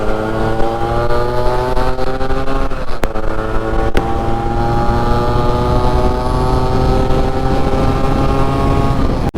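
A Yamaha RX135 two-stroke motorcycle being ridden, its engine droning steadily and loud throughout with harmonic tones that gradually rise and fall as the throttle changes, close to the rider.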